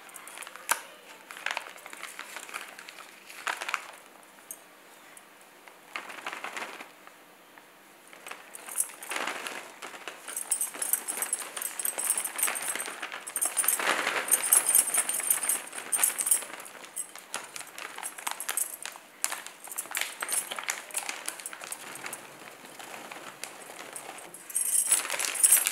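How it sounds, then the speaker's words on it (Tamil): Frozen green peas are poured into a plastic ziplock bag, making a long run of rattling, pattering trickles and crinkling plastic rustles that rise and fall in bursts, close and moderately loud, with no talking. "இப்போ வந்து இதை ஒரு ஜிப்லாக் கவருக்கு மாற்றிடுறேன் நான்."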